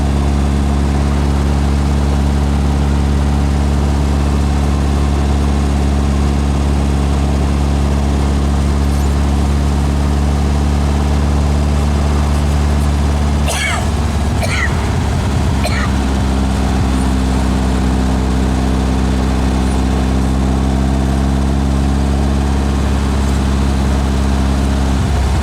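A Volkswagen engine enlarged from 1600 to 2110 with carburetors still being tuned drones steadily and loudly with a deep rumble on its first drive. Brief clattering bumps break in partway through.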